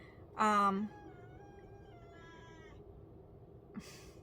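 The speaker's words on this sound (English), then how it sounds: "That's my cat. He thinks he's hungry." A cat gives one loud, drawn-out meow close by, followed by a quiet pause and a brief second chirp near the end.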